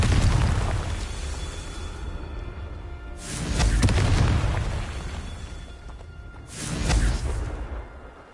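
Confringo blasting spells from Hogwarts Legacy go off as loud booming explosions with whooshing bursts, a heavy blast at the start and two more at roughly three-second intervals, no talking.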